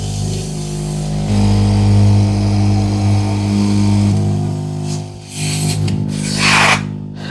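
An electric air pump runs close by with a loud, steady motor hum and buzzing drone that shifts in pitch partway through, then falters and gives way to rubbing, handling noises.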